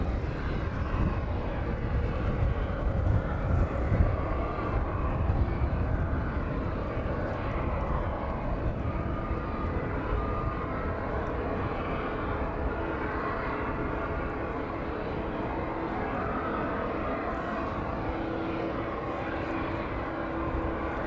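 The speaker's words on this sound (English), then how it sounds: "the Ryanair service in from Tenerife. On our final approach for runway 27 this evening." A Ryanair airliner arriving from Tenerife roars on final approach to runway 27 at East Midlands airport, a loud, steady broadband jet rumble that holds for the whole stretch with no talk.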